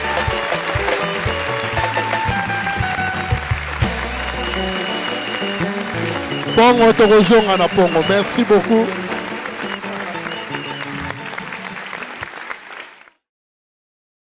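A church anniversary crowd applauds loudly for a pastor, sustained clapping and cheering that swells midway then fades out, with someone speaking over the start of it.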